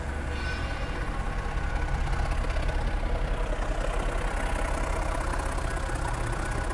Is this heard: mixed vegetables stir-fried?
no